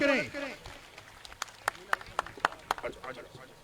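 Scattered applause at a JJP party youth gathering in Dongra Ahir, Mahendragarh, welcoming Dr. Ajay Singh Chautala: a voice trails off, then a handful of sharp, separate claps ring out one after another across the hall.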